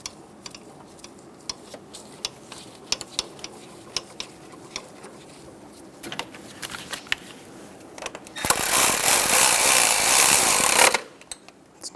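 Sparse ticking clicks from a ratchet tightening 10mm ground strap bolts on a 1994-1997 Honda Accord 2.2L four-cylinder engine, then a loud, steady whirring burst of about two seconds near the end, with no talking.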